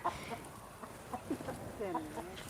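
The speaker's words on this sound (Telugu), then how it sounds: "కోళ్ళు అలా చివరికి వెళ్ళిపోయాయి" Chickens cluck softly in a few short, scattered calls, fairly quiet and close by against faint background noise.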